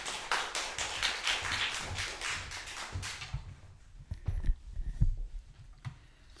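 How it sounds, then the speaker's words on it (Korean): A church congregation gives a burst of applause, with dense rapid clapping for about three seconds that then thins into scattered, quieter claps and taps inside the sanctuary. "나오실 때 여러분 박수로 맞아 주시기 바랍니다"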